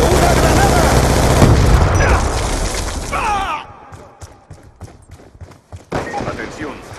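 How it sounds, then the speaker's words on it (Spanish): Grenade blast and gunfire in a first-person shooter video game: a loud dense burst of explosions and rapid shots fills the first few seconds, then sparser bangs and game voice lines continue more quietly. "¡Cúbranse! ¡Una granada!"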